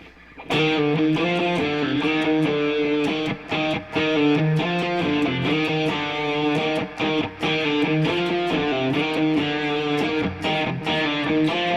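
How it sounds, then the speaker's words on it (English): A driven electric guitar riff in raised drop D tuning chugs in a steady rhythm of low chords and short accents, loud and continuous. "So this song starts off with a riff that sounds like this."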